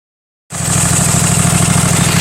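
A Husqvarna MZ5225 zero-turn mower engine, under repair for a voltage regulator fault, starts abruptly after half a second of silence and settles into a loud, close, steady idle with a fast, even pulsing throb.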